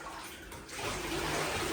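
Running water splashes steadily into a bath as a litter of golden retriever puppies is rinsed down indoors, the flow close and continuous, growing a little louder partway through with no talking.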